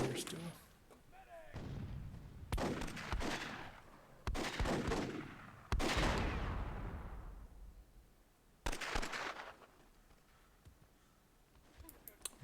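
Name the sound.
gunfire in the video game Myth II Soulblighter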